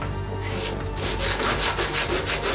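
Sanding off damp, bubbling primer on the side of a UAZ vehicle body, a steady rough abrasive rubbing with rhythmic strokes, close and fairly loud throughout.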